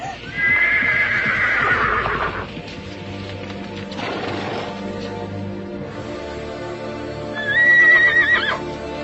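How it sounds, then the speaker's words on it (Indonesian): A horse neighs loudly, a shrill whinny near the start and another near the end, with hoof clip-clops and rustling movement in between. "Kuda itu meringkik keras sebelum melompat tinggi ke udara"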